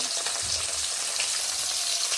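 Striped dwarf catfish (tangra) fry in hot oil with a steady, even sizzle of fine crackling and hiss that stays constant throughout, with no voices.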